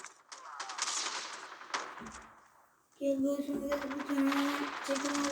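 Sniper rifle gunfire in Call of Duty Mobile gameplay, a few sharp shots and bursts of game noise, close and fairly loud, with a tonal game sound in the second half and people talking over it.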